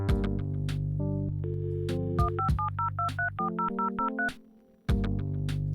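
Dial-up modem tones over a phone line: steady low tones, then a rapid run of paired dialing beeps, a sudden near-silent gap, and a tone returning at the end, close and clear with no talk.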